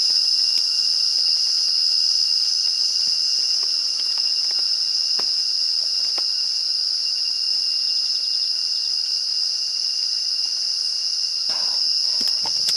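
A loud, unbroken high cricket drone fills a rainy night forest, steady throughout with occasional soft drips and taps, no talking.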